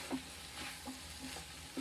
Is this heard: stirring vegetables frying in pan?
yes